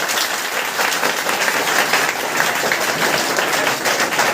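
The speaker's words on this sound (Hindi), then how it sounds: "तो एक बार मेरे सहयोगी सभी टीचर के लिए जोरदार ताली हो जाए" An audience applauds teachers at a school gathering, a dense, steady wash of many hands clapping close and loud throughout, without a break and with no voices standing out.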